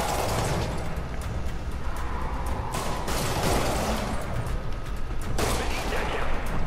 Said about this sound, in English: Oh crap, gunshots.